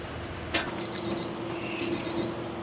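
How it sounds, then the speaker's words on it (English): A ThermoPro TP17 digital meat thermometer alarm beeps in quick, high-pitched bursts, two short clusters of rapid beeps over a faint background hum. "we've got the alarm going off"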